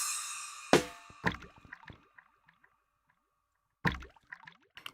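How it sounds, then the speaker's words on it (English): Water drop samples played on a Punch-2 synthesizer give a run of sharp, plinking drips that trail off into silence, then a fresh burst of droplets follows, close and clear with no voices. "which is from the water drop things"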